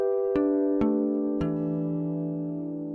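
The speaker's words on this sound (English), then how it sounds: "Harmonics sound like this." Guitar harmonics rung out one after another, three bell-like chiming notes struck at even intervals that overlap and sustain, fading slowly with no talking.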